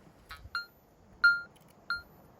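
Short electronic beeps from a metal detector reacting to a deep, hard-to-find target in a test garden in Spain, four brief tones at irregular spacing against a quiet background.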